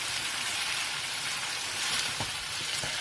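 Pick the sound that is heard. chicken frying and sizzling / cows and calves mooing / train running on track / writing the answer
chicken frying and sizzling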